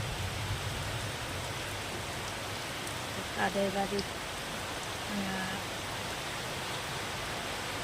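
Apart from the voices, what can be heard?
rain falling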